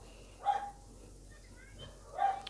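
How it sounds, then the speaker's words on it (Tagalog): A household dog barks twice indoors, two short, fairly faint yips spaced about two seconds apart, heard against a quiet room with a voice nearby. "Maingay po yung aso namin."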